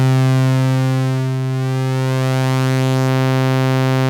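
A New Mexico Wavesplice synthesizer module sustains a loud, buzzy tone rich in harmonics, brightening as the mix swings toward sawtooth, with a slight dip and swell in the middle.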